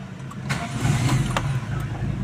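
A Toyota Corolla twincam engine with a carburettor emission control module cranks and fires up close by, a steady low engine rumble with brief starter clicks and rising churn, no talking.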